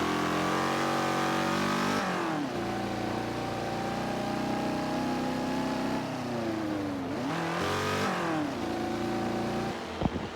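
Race cars lap the old Nürburgring in a racing video game. A loud, continuous engine drone runs through upshifts and revving pitch sweeps, with a second car passing near the end. No voices.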